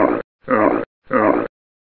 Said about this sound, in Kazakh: Түйе боздайды.